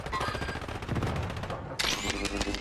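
Rapid automatic gunfire in the online shooter Call of Duty: Warzone, dense chattering bursts that run throughout, then a sharper, louder volley near the end, with no voices over it.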